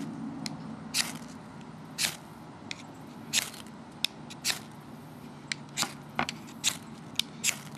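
Sparks struck onto dryer lint for fire lighting, a run of sharp, scraping strikes about once a second, close and crisp against a quiet background.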